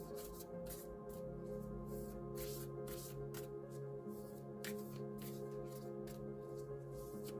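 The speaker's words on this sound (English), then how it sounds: "Let's give them a bit more of a shuffle and then we'll see what card wants to come out." Deck of oracle cards shuffled by hand: soft, repeated papery riffling bursts come in irregular clusters over a steady low room hum, quiet and close, with no talking.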